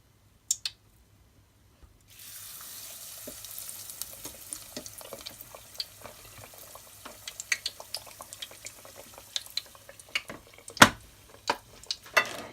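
Four vegetable burger patties frying in a pan give off a steady, close sizzle crackling with scattered sharp pops, starting after a brief quiet opening with a couple of clicks.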